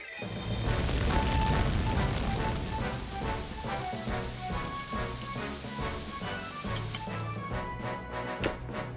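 A cartoon firefighting scene with a steady, loud spray hiss of water dousing a fire on a mountainside, set under busy music and effects.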